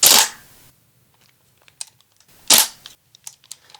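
A Tokyo Marui Type 89 airsoft rifle firing two sharp, loud cracks about two and a half seconds apart, each followed by a brief ringing tail and small clicks of handling in between.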